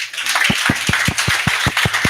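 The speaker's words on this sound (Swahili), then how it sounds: "Makofi" Steady, evenly spaced clapping from a church congregation, about ten sharp claps in quick unison rhythm, close and fairly loud over a faint room hum.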